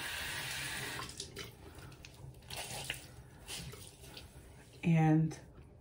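A bathroom tap runs water onto the end of a towel during a morning skincare routine, a steady broadband wash through most of the clip, ending in a brief louder gush.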